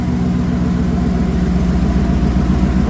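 A Ford Ranger with a swapped-in Ford Coyote V8 idles steadily and loudly nearby, giving a constant, even engine rumble with no revving.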